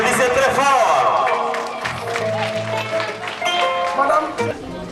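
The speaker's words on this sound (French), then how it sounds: "Applaudissez très fort." An audience at a school excellence awards ceremony claps and cheers for an honoree, a busy crowd of applause and babble with voices and music-like tones layered over it, fairly loud throughout.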